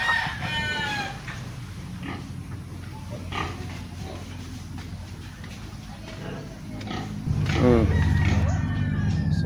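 Chickens at a village bazaar give a loud, drawn-out crow near the start and another rising call near the end, with scattered clucks and a busy background of voices and market bustle throughout.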